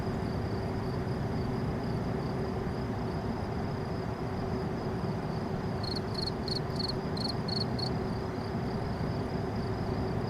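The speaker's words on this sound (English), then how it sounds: "Crickets." Crickets chirp in Euro Truck Simulator 2, a quick rapid series of high pulses over a steady broadband engine-and-road rumble, with the chirping fairly faint in the mix.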